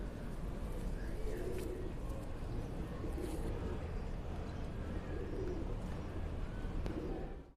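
Caged Sialkoti pigeons, a fifty-year-old breed line kept in Rawalpindi, coo softly amid a continuous background hum, with only faint distant voices.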